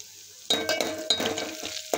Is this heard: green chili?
yes